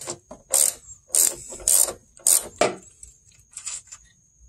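A hand ratchet loosening a small bolt on a Chevy truck's A/C condenser, heard as several short bursts of rapid clicking separated by pauses, close and clear over a faint steady whine.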